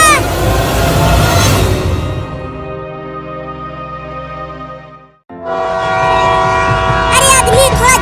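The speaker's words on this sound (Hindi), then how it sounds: "ट्रेन आ गई" An approaching train in a Hindi cartoon: a loud, sustained horn with rumbling rail noise that drops away briefly, then returns louder and closer, with some voices over it.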